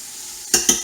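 Onion and two tablespoons of garlic sizzle in a pot for venison stew, with two short bursts of stirring scrapes near the end after a quiet start.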